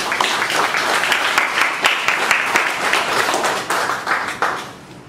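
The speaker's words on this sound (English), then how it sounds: "please give Shreyans Gandhi a big round of applause" A roomful of people claps for a speaker after an introduction, with crisp individual handclaps audible in a lively, uneven patter that thins slightly near the end.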